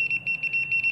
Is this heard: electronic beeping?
yes